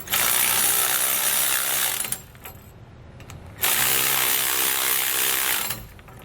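Ratchet tightens steering stabilizer bracket bolts, a close, loud run of rapid clicking that pauses briefly in the middle and then resumes.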